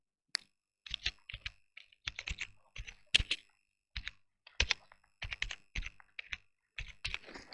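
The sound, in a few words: typing dummy text on a computer keyboard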